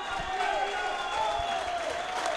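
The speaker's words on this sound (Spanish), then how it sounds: "quiero que todos los que están aquí le den un gran aplauso a don Jairo Trelles, la Turbina." A studio audience applauds and cheers on a football talk show, a steady wash of clapping and crowd noise with voices mixed in.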